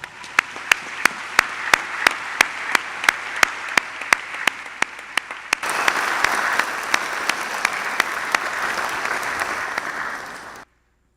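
Warm round of applause for a jazz quintet at a McGill University fall convocation ceremony, a large hall of clapping with sharp rhythmic beats over the first half, then swelling into dense, steady applause that cuts off abruptly.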